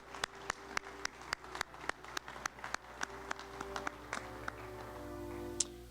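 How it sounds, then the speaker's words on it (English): At a service-honoring ceremony, a few people clap for Army service members in sparse, evenly spaced claps. The clapping is faint and distant and thins out toward the end. "how about a round of applause for our folks in the Army?"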